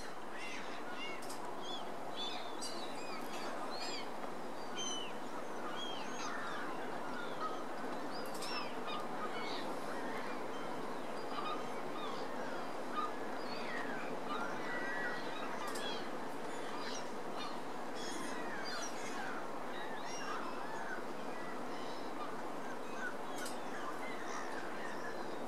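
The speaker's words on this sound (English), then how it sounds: "The ducks just bobbing sedately by while the gulls are squabbling," Gulls squabbling with ducks nearby at Lackford Lakes, a continuous mix of overlapping harsh calls, squawks and quacks at moderate distance over steady outdoor ambience.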